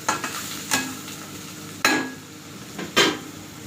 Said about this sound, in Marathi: आता परत एकदा तेलात सुकट हलवून घेऊया.